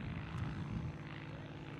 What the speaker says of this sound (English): that airplane is f***ing up the whole vibe right now